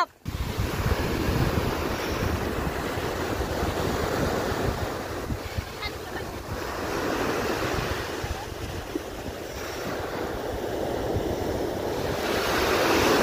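Strong surf pounds a beach at Khor Fakkan, a continuous loud rush of breaking waves swelling and receding, heavily mixed with gusty wind buffeting the microphone.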